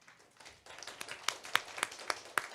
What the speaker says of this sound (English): So please give ourselves a big round of applause.